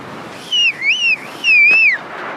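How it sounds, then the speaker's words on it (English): A clear, close whistle sounds three short melodic phrases that swoop up and down, loud and alone over a soft background. "did you hear whistling?"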